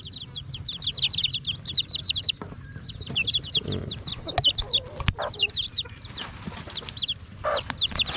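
Hens cluck repeatedly and busily up close, in quick bursts, with a few wing flaps and rustling in between.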